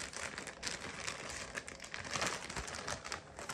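Crinkling of the plastic bag packaging around a small yellow Telfar bag, a steady, close rustle with sharper crackles throughout, heard alone without speech.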